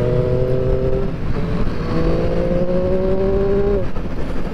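A Triumph Street Triple RS with its 765cc triple engine revs loud and close, its pitch climbing, dropping briefly, then climbing again over a steady mechanical roar.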